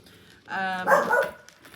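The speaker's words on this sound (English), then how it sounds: "Please excuse the dog, she's voicing her opinion." A dog lets out a couple of loud, close barks, a drawn-out bark followed by a rougher one, all within a few seconds.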